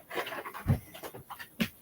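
A puppy pants close up in quick, breathy bursts, with a few soft whimpery snorts between breaths; no one speaks.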